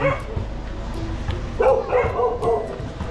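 A large spotted dog barks several times at mid distance, short yips and whimpery barks over a noisy outdoor background.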